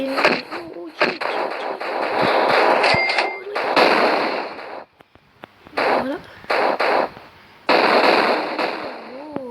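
Loud, dense bursts of explosions and gunfire-like blasts in a snowball-fight video game, repeated in quick clusters with short quiet gaps between them.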